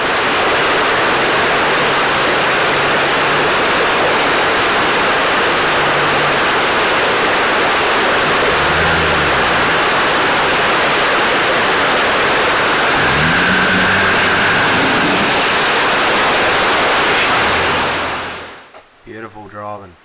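A heavy Toyota military 4WD truck drives through floodwater on a 4WD track, water rushing and churning steadily with a mid-pitched engine rumbling and revving under it, ending abruptly near the close.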